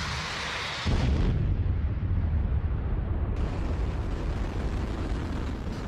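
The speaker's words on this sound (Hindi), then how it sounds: "यूक्रेन युद्ध के ये धमाके भी बहुत छोटे साबित होंगे" Explosions from the war in Ukraine, a sudden loud blast followed by a long rolling, rumbling roar that stays heavy and dense for several seconds, with no voices.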